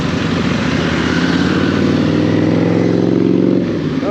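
Engine of an Indian motorcycle ridden slowly on a road with a badly worn chain, a steady loud close-up drone with a stuttering, uneven rumble that swells and then drops off near the end.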